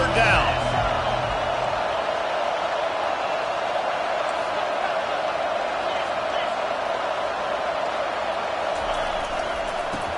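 A home crowd at a football game roars steadily during a third-down defensive stand, a loud, sustained wall of cheering that holds for the whole stretch under a commentator's voice.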